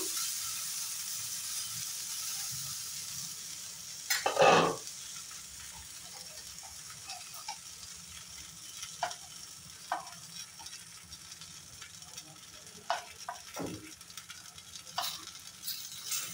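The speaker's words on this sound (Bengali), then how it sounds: "কত কম তেল দিয়ে আলু সবগুলো ভাজা হয়ে গেল, একটাও ভেঙে যায় নাই" Potato cutlets fry in a pan with very little oil, giving a steady soft sizzle throughout, with one louder clatter near the start and a few brief utensil taps later on.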